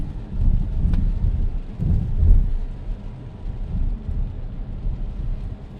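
Steady rain at night heard from inside a moving car, a low rumbling wash of road and rain noise with a few heavier swells. No one speaks.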